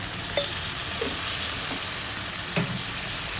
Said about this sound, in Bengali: আর আলুগুলোকেও খুব সুন্দর করে ভেজে নেব।